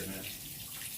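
Water rushes steadily from a tap into a tub or container at a homestead during winter, a continuous close splashing flow with faint voice-like sounds underneath.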